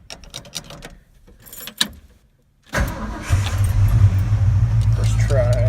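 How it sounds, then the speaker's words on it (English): A 1977 Ford truck engine cranks and catches on the first try, then settles into a loud, steady rumbling idle up close after a few quiet clicks and brief handling sounds. "Oh, let me start it up."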